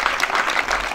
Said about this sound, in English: May you clap for the PS.